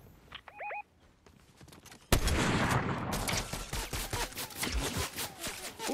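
Gunfire in the battle royale game Fortnite, a sudden loud onset of rapid repeated shots that continue in dense bursts after a brief quieter stretch with a few tonal game sounds.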